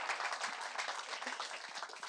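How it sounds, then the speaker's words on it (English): Audience applause for a stand-up comedian at a comedy show, a dense, steady wash of many hands clapping that fills the whole moment without pause. "usually I get a clap over here"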